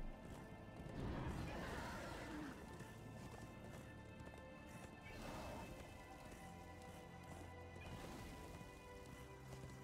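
Hooves clatter as a horse gallops in the video game Darksiders 2, a quick rhythmic drumming of beats under dense game noise, swelling in bursts and staying fairly faint throughout.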